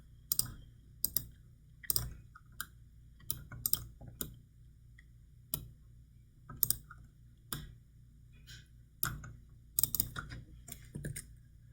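Sharp, crisp clicks from a computer mouse or keyboard while working in CAD software, arriving in irregular clusters with short pauses between them, close and fairly quiet over a low steady hum.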